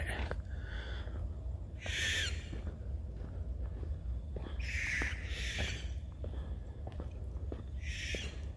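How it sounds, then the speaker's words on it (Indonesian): Owl calls ring out in bursts over a low constant background hum in a limestone cave area by a lake, with several hoots spaced a few seconds apart, fairly distant and without talking. "Suara burung apaan"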